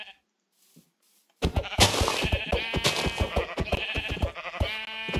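Sheep bleating in the video game Minecraft, a sudden burst of loud, harsh game sound following near silence, with several short repeated pulses.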